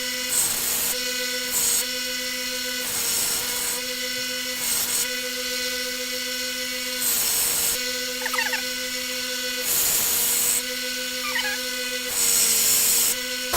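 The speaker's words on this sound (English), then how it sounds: "We got a 60 grit belt on there. We're just going to start chucking away at it." Belt grinder running a 60 grit belt against a railroad spike being shaped into a tomahawk, a steady loud motor whine with repeated bursts of harsh abrasive grinding as the steel is pressed to the belt, close up.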